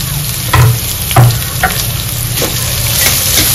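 Onion and asafoetida fry for upma in hot oil, a loud close sizzle with a few heavy thumps and scrapes of stirring, steady to the end.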